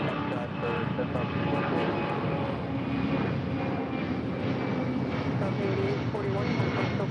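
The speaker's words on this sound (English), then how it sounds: "That is Delta Airlines 8841 departing to San Diego on a 757-200." A Delta Air Lines Boeing 757-200 departs LAX for San Diego with a loud, steady jet roar that fills the whole stretch, while a voice speaks over it.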